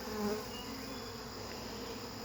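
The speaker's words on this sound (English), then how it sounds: "See little bees." Honeybees being installed into a new hive, a steady close insect buzz that holds evenly throughout, with no talking.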